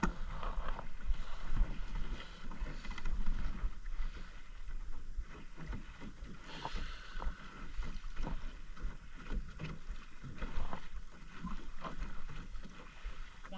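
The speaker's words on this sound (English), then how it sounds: "Alright, we're out here sailing." Sailboat cutting through open water on Lake Conroe under a new sail, with steady rushing wind buffeting the microphone and continuous water wash against the hull throughout, no voices.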